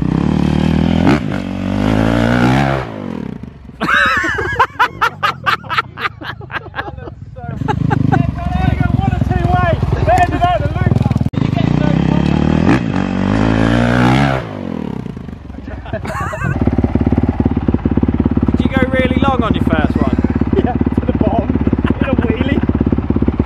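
A motorcycle being ridden revs and accelerates loudly nearby, with engine roar rising and falling in bursts over about twenty seconds and people talking in between.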